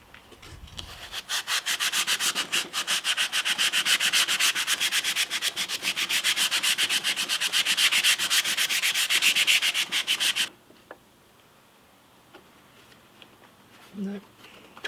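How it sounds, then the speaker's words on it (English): Steady, loud rubbing or sanding of a workpiece to enlarge a 1/2 inch hole, a dense rasping scrape running for about ten seconds before cutting off to near silence with a brief thump near the end. "Rubbing the skin off."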